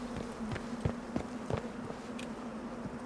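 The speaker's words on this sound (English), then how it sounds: "bees or something." Buzzing insects drone steadily, like bees, in the video game Atomfall, with a few sharp tapping or stepping sounds scattered through the background.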